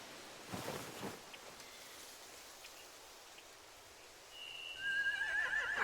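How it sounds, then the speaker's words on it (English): A horse whinnies near the end in The Walking Dead Telltale video game, a rising, wavering neigh that follows a quiet stretch of soft outdoor ambience and faint rain-like patter. "They have horses."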